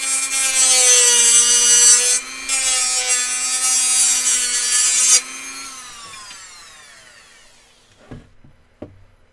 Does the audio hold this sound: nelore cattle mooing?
no